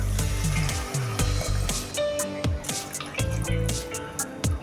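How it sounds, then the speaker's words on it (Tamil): Water is poured in splashing, uneven bursts into a green peas kurma mixture in a cooker, close and fairly quiet, with no voices. "இதை மிக்ஸ் பண்ணி விட்ட பிறகு 2 கிளாஸ் தண்ணி ஊற்றிக்கலாம்."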